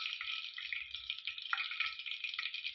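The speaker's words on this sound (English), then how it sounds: "We are done with the deep frying our fish." Fish deep-frying in hot oil in a Kenyan home kitchen gives a close, steady bubbling sizzle that fills the whole stretch without a break and with no voices.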